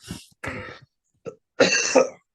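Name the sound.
coughing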